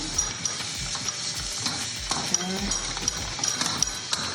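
Peppers roasting in a pan for Portuguese cataplana, a dense close sizzle with rhythmic scraping stirs and light metallic clinks of a utensil, continuous throughout.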